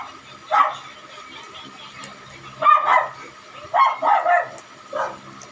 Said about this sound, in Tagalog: Sorry mga aso ah.